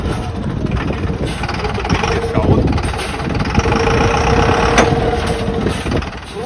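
The engine of a narrow Vario expedition vehicle rumbles loud and close as it crawls along a tight off-road piste, a steady low drone with slight surges, and people talk over it.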